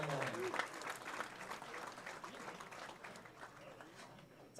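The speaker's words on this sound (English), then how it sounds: "let's get a big round of applause for all of our singles finalists here today" Spectators at a high school bowling championship applaud the singles finalists, a steady round of crowd clapping that gradually tapers off.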